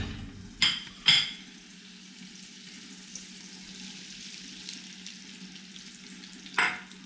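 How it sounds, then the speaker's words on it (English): Butter and caster sugar soften in a large pan over gentle heat under a faint, low sizzle, while a few sharp clanks and scrapes of stirring ring out near the start and again near the end. "we're going to melt those in a large pan nice and gently"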